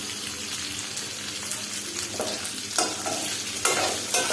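Chicken marinated with ginger, garlic and chili powder fries in a pan at home, giving a steady, close crackling sizzle with a few sharper pops and stirring scrapes toward the end, with no one talking.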